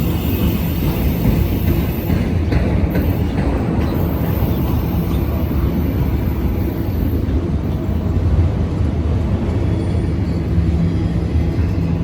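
A long freight train with five locomotives and a DPU pushing at the rear rumbles across a bouncy railroad bridge, a loud, steady roar of wheels and engines that holds without pause.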